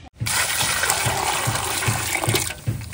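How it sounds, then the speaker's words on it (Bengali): Water gushes steadily over cut pieces of a large pangas catfish caught from a Sundarbans river, a continuous close splashing pour lasting nearly three seconds with faint rhythmic thuds underneath. "না শুধু জল ঢালো, জল ঢালো, জল গেল।"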